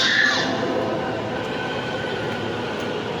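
A metro train arriving at a station rumbles steadily along the rails, with a brief high squeal at the start and a continuous mechanical drone throughout.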